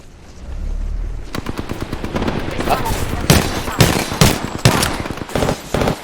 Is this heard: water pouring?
no